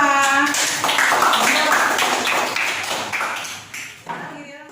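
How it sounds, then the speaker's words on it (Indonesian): A classroom of students bursts into applause for a group during an Islamic religious education lesson, a dense run of brisk claps lasting a few seconds, bracketed by a voice speaking just before and after. "kita berikan tepuk tangan kepada kelompok 2"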